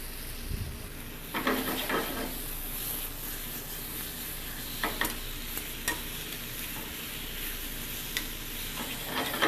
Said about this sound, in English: Let them saute lightly with the butter.